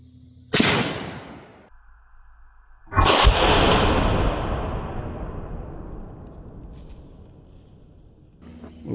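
A .308 Winchester rifle fires a single loud, sharp shot at a bowling pin outdoors, a sudden crack followed by a long rolling echo that fades over several seconds, with another sharp report just before it.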